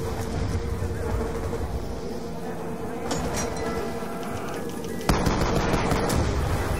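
Rapid automatic gunfire from a weapon in a zombie video game, loud and continuous bursts that sharpen into a harsher burst near the end.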